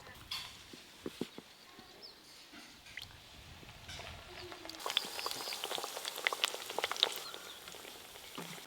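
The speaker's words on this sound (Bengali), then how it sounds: "হালকা তেল গরম হয়ে গেছে, এবার ভেজে নেব।" Mughlai paratha slides into lightly heated oil. The pan is fairly quiet at first with scattered small ticks, then a dense, rain-like crackling sizzle rises and holds steady at moderate loudness.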